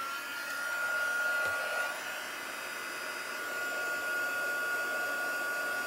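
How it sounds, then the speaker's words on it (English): A heat gun blowing hot air to set metallic embossing on stamped card: steady, close whirring rush with a constant tonal whine, unchanging and alone for several seconds. "I'm just going to put my heat gun on."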